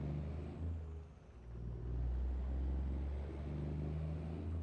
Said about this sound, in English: I do like the sound of this motor.